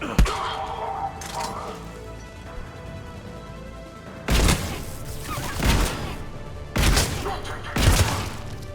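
Katana shotgun blasts in Mass Effect 3: four loud, heavy booms spaced a second or so apart in the latter half, after a quieter stretch of game ambience with faint earlier shots.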